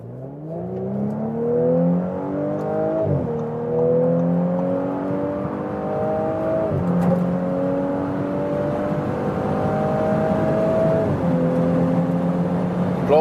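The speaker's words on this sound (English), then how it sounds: "And now as comparison, the Audi 6-cylinder petrol." An Audi S4 six-cylinder petrol engine accelerates hard through the gears, its rising whine broken by three clear upshifts as it pulls steadily and loudly with no one speaking.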